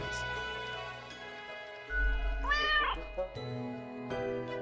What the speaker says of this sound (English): it's a delighted meow at the prospect